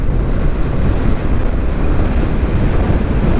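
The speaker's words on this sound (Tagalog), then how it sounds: "ang lamig ng dampi ng hangin sa atin." Strong, cold wind buffeting the microphone at Kamay ni Hesus in Lucban, Quezon, a constant loud rushing roar with no pauses or voices.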